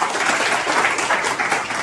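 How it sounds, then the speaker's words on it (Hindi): An audience of students at a mobile repair training institute breaks into loud, dense applause for a student, a close, continuous roar of clapping that stays steady throughout. "जोरदार तालियां बजा दो"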